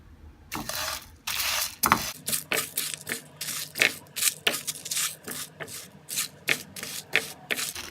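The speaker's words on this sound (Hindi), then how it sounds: "ये देखिए मैं इन सब चीज़ों को भून रही हूँ।" Spice powders dry-roast in a pan over low heat, giving a string of scraping, rubbing strokes with short clinks as a utensil moves them around, close and rhythmic with no talk.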